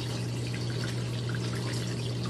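A Giantex 1.34 cu ft portable washing machine drains its rinse water, a steady close-up gush and trickle of pouring water over a low continuous motor hum.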